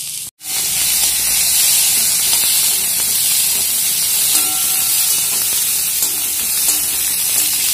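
Ridge gourd peel fries in a pan with a loud, continuous hissing sizzle, close and unbroken after a brief silent start, with no talking.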